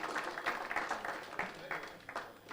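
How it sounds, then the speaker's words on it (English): An audience at a retirement benefits sector consultative forum in Kenya gives a short burst of applause, a steady wash of many hands clapping at fairly low volume throughout. "Let's give him a round of applause."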